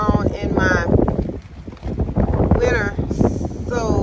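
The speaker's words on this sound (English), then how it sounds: "Feels really good, but it's very windy out." Strong wind buffets the microphone in loud, uneven gusts while a person talks over it.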